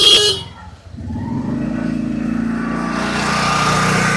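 Busy road traffic crowds the street, with a loud horn blast at the start, then a steady drone of engines and passing vehicles that builds in density toward the end.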